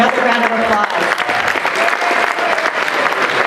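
Guests at a synagogue journal dinner give a burst of close, loud applause, dense clapping filling the room throughout.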